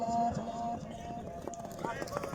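Horse hooves galloping at a tent pegging (neza bazi) event in Haripur Hazara, with quick rhythmic thuds partly buried under a loud commentator and crowd noise.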